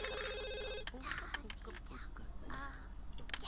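A telephone rings in The Sims 2 with a bright, repeating electronic tone for the first second. Game clicks and other in-game sounds follow, along with faint background voices.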